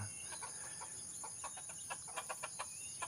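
Chickens cluck softly in a quick scattered series of short calls over a faint steady background hum.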